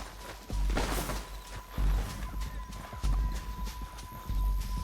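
Horse hooves in Red Dead Redemption 2 clip-clop in a steady galloping rhythm, close and loud, with a faint constant tone underneath.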